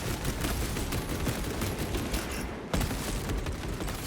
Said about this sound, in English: Servo gun is fully operational. Servo gun strike in progress.